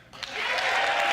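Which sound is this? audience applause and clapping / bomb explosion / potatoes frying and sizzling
audience applause and clapping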